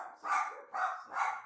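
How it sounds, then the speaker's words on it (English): Dogs bark three times in quick succession indoors, each bark fairly faint and slightly distant, with brief quiet gaps between them and no talk. "Sorry about my dogs barking,"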